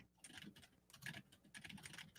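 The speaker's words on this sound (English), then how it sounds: "I can hear your keyboard still" Rapid typing on a computer keyboard, close and fairly loud, with irregular bursts of key clicks running continuously and no speech over it.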